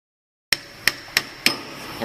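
Four sharp hammer blows strike a glued and clamped wooden memo holder, close and loud, spaced roughly evenly after a brief silence, each leaving a short ringing decay.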